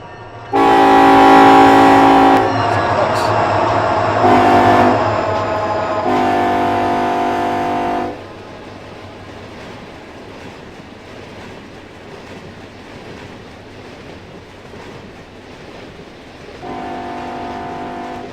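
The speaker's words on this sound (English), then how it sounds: "Is there a train coming?" Train horn sounding in long loud blasts from a passing locomotive in the Run8 train simulator on a South West Rails route, followed by steady rolling rumble of cars, with one more horn blast near the end.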